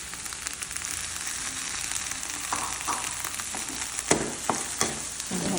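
Mushrooms, garlic and onion frying in butter in a pan for tuna carbonara, a dense, steady hiss of sizzling throughout, with a few sharper stirring scrapes near the end and no voices.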